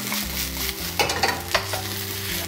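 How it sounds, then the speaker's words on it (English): Steady sizzling of noodles with shrimp stir-frying in a hot wok, with scraping, clattering stir strokes over a constant low hiss. "So you're gonna keep stir frying for maybe"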